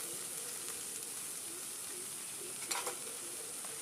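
Papaya flowers and potatoes fry in a pan, giving a faint, even sizzle with a few soft stirring scrapes near the end, and no one speaking.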